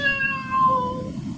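A voice imitates a cat meowing: two drawn-out, tonal meows, each bending slightly in pitch, close and clear against a faint room background.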